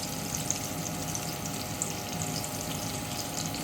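Onions fry in a pan as the base for a chicken gravy, giving a steady, even sizzle and crackle that runs unbroken throughout, close and moderately loud with no talking.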